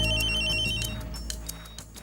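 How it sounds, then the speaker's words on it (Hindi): A telephone bell rings in a short, close burst of repeated electronic trills lasting about two seconds, clear and fairly loud against a quiet room. "वो तो फोन की घंटी बजते ही मुझे पता चल गया था।"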